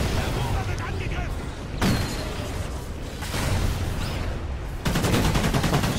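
Skorpion submachine gun fire in the shooter game Call of Duty: Ghosts Extinction mode, on PS4, dense rapid bursts crackling over a constant noisy battle backdrop, with a sharper sustained volley near the end.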